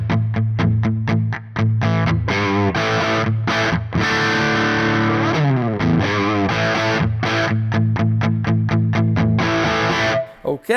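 Gibson Les Paul Studio electric guitar played through heavy crunchy distortion, loud continuous chords and riffs with brief gaps, no talking.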